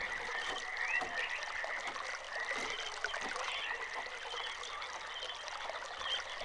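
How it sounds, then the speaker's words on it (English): Water trickles and pours steadily through pipes and valves in the Channelwood area of realMyst: Masterpiece Edition, a continuous close babbling flow with faint croak-like ambience and no talking. "you can manipulate which way the water flows by interacting with these valves"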